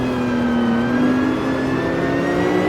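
Mercedes race car engine in Assetto Corsa, the Maures EGT1, building slowly under acceleration, a loud steady mid-pitched drone with pitch creeping gradually upward, heard alone and up close.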